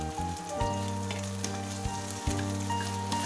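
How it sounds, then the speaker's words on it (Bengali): Garlic goes into a pan with onion, frying in a soft, even sizzle while a steady low hum runs underneath and faint stirring taps come and go. "এরপর দিয়ে দিচ্ছি রসুনটা।"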